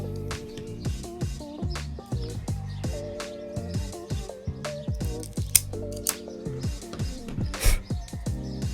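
Cigar cutter snipping the head of a Dunbarton Tobacco & Trust Sobremesa Brulee Wagashi cigar with an Ecuadorian Connecticut shade wrapper, heard as a string of sharp clicks and snips close up, followed by light handling noises.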